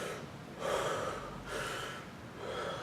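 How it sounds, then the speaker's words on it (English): Deep breathing between dumbbell biceps workout sets, three slow loud close breaths, each a long airy rush with quieter pauses between, no talking. "I'll take 10 deep breaths."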